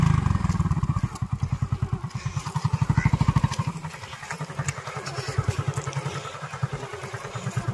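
A motorcycle ridden by a boy learning to ride chugs loudly and unevenly up close, its engine thumping in rapid pulses that slow and falter before settling into a softer idle-like putter.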